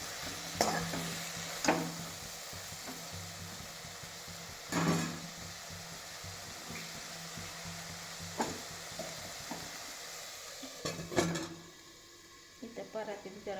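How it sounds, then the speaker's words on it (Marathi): Roasted beans with ghee and water are stirred in a pan at home, giving a low simmering hiss with several scraping strokes of a spoon spread across the stretch, then fading near the end. "याला हलवून घेते आणि थोडंसं पाणी टाकते."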